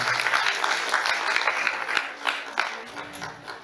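An audience at a youth parliament event in Bhagidari Bhawan applauds in a steady, dense wash of clapping that holds at a fairly even, moderately loud level for several seconds.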